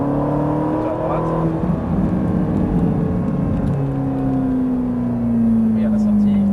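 Ferrari 458 V8 engine pulling hard on a race track, a loud steady drone with a pitch that climbs and shifts as it accelerates through gears, heard from inside the car while people talk over it.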